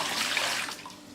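Excess water poured out of an Unger HiFlo RO30G reverse-osmosis filter housing into a bin, a brief steady splashing rush close by that tapers off at the end, with no voices.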